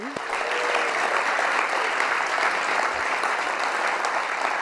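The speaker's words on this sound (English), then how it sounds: "Can we give a round of applause to the Strong Words organizing team?" An audience at the Strong Words LA MADE 2020 stage event, a photography show with a performance, applauds the organizing team in a steady, dense wash of clapping that holds at full strength for the whole stretch.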